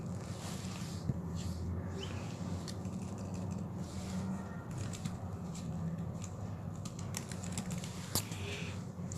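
Soft, irregular clicks of typing on a Bluetooth keyboard under a low steady background hum, with occasional sharper key taps.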